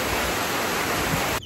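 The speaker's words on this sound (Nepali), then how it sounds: "पानी पर्नु लाग्यो यहाँ पुरा चिसो रहेछ मौसम पनि" Rain pours in steady, dense broadband hiss during cold weather at a hotel on the way to Kulekhani, Nepal, unbroken until it cuts off near the end.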